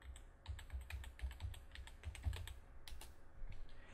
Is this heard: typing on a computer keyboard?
yes